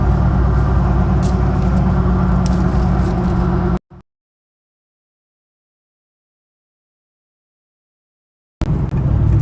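Inside a car on the drive to work, a steady low engine and road rumble that cuts out abruptly to silence for several seconds, then resumes.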